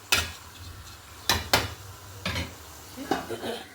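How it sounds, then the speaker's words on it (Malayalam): Lid set down on a cooking pot holding chicken chukka with dried chillies and curry leaves, giving a few sharp metallic clatters in separate bursts close by. "ഇനി മൂടി വെച്ച് വേവിക്കാൻ പോവാണ് കേട്ടോ"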